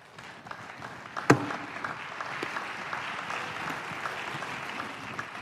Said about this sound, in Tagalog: Mahinang pumalakpak mga tao rito.